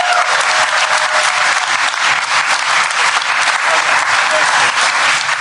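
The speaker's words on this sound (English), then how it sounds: "a round of applause for Only Child by John Hodgman" A large audience at a live comedy podcast reading claps loudly and steadily for several seconds, a dense, sustained wash of applause with no voices breaking through.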